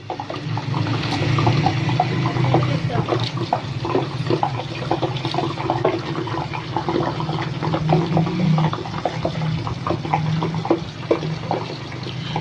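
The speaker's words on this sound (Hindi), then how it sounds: "ये अभी बुलबुलों की आवाज़ें आ रही हैं तेल में से" Continuous bubbling and sizzling as water hits hot oil, a dense crackling hiss that stays steady and close.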